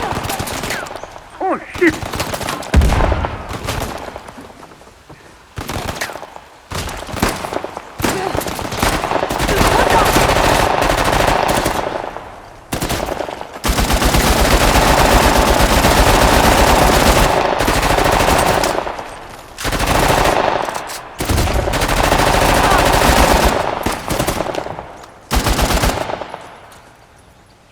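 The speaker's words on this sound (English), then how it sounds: "They spotted us! Open fire!" Enemy machine-gun fire roars in the video game Uncharted: The Lost Legacy, with dense, loud bursts and long sustained volleys broken by short pauses, as a voice briefly shouts over the shooting.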